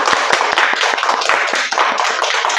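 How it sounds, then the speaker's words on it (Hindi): Audience clapping at a quiz show event, fairly close and lively, with distinct individual claps standing out over a busier wash of hands, continuous for the whole stretch without talk. "चलिए जोरदार तालियां हो जाएगा।"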